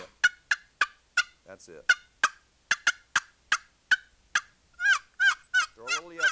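A wooden box turkey call scraped into sharp, raspy yelps, about a dozen loud close strokes in quick runs, followed by longer rolling clucks; someone briefly speaks.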